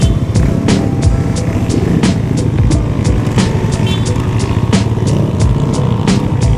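Classic motorcycles ride through Kaybiang Tunnel on the Ternate-Nasugbu road, a loud steady engine drone with sharp repeated ticks and pops echoing close by throughout.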